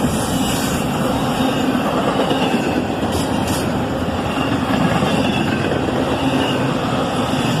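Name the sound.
CSX double-stack freight train passing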